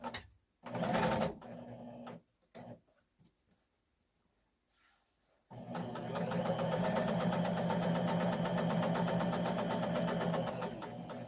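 A sewing machine stitches a one-piece chair cushion in a short burst, then pauses amid faint handling noises before running steadily and evenly for several seconds, close and clear.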